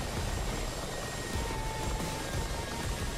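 Mi-24 helicopter in a flight-simulator racing tournament, a steady rotor and turbine drone that holds at an even level throughout.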